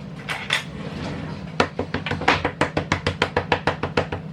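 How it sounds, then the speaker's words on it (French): A fork pricking quiche pastry dough in a pan: a few scattered taps, then a quick, even run of about twenty sharp metallic pricks in close succession, near and distinct. "On pique la pâte avec une fourchette."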